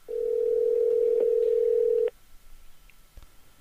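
A steady telephone dial tone hums for about two seconds, clear and close, then cuts off abruptly, leaving faint room noise and a couple of small clicks.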